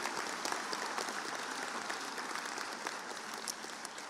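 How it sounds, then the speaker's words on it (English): Steady crowd applause at a high school graduation ceremony, dense and even clapping throughout from a large audience heard at a moderate distance. "You can give them applause."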